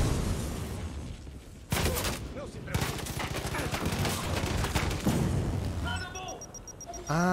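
Rapid bursts of gunfire from a pistol in the shooter game Far Cry 5, dense repeated shots over game noise while someone talks throughout.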